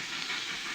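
Steam train drawing in as a radio drama sound effect: a steady, broad hiss of escaping steam fills the short moment at even loudness, with no voices over it.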